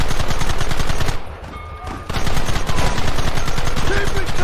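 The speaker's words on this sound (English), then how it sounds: "Targets on the horizon! Fire at will!" Rapid gunfire in the Red Dead Redemption video game, loud sustained bursts of repeated shots with a brief lull in the middle before the firing resumes just as densely.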